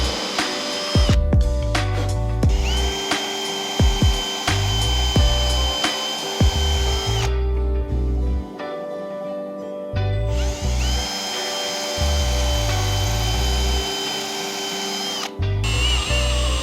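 A power drill whirs in repeated bursts as it drives screws into a wooden shelf, with the motor spinning up, ratcheting and cutting off between runs, close and loud.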